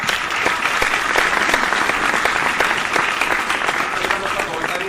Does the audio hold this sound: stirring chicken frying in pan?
no